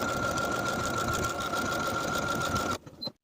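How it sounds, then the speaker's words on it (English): A sewing machine stitches a buttonhole into the waistband of a custom-fit skirt, a steady fast whirring rattle with a constant hum that stops abruptly near the end, followed by a few faint handling clicks. "Now I can sew a buttonhole into the left side of the waistband,"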